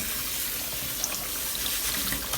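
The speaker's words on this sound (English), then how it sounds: "I'm going to wash the rice, and it's very important that you wash the rice and you get the water coming from it nice and clear" Tap water runs steadily as rice is washed under it in a strainer, a continuous close hiss of flowing water with faint clicks and splashes.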